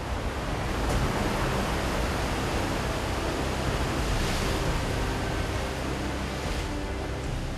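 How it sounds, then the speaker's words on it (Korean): Rough ocean waves surge under an overcast sky on the Indonesian coast, a dense, continuous roar of surf with no voices. "다음 날 어제와는 달리 하늘은 잔뜩 흐리고 파도는 거세게 출렁입니다."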